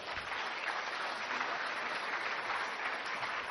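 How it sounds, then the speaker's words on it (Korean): Steady applause from a church congregation welcoming a missionary at a Sunday service, an even wash of clapping lasting a few seconds without a break. "함께 박수로 인사하겠습니다"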